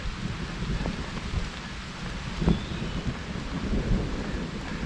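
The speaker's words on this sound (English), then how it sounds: "There's some thunder." A deep rumble of thunder rolls through steady rain on the Appalachian Trail, with a louder crack-like swell midway and another roll near the end.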